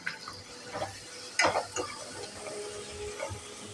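A spoon stirs tomato sauce and Manchurian gravy mix into a chilli liver fry in a pan. Soft scraping and clinks sound over a faint sizzle, with one sharper knock of utensil against pan, quiet and close.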